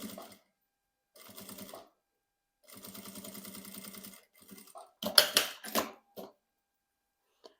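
Sewing machine topstitching fabric along a zipper panel, sounding in several distinct runs of rapid, even stitching separated by pauses, close and clear, followed by a few sharper handling clatters near the end.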